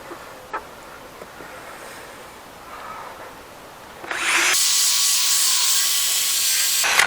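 A plastic car headlight is power-sanded with a Holts restoration kit, giving a steady close whine and grinding that starts abruptly halfway through, after a few seconds of quieter handling noises.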